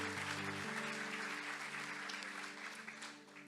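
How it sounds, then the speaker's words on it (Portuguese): Audience at a church event claps for the worship team, a steady wash of applause with sustained keyboard chords droning underneath, gradually easing toward the end. "Can we give a hand for the worship team?"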